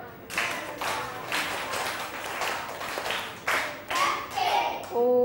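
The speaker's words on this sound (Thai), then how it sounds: "ถ้าพร้อมแล้วปรบมือพร้อมกัน1ชุด" Students in a classroom clap together in a set of uneven bursts that build in strength, with a voice coming in near the end.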